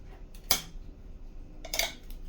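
A cooking pan is handled while being rinsed and dried, giving two brief metallic clatters against a quiet background.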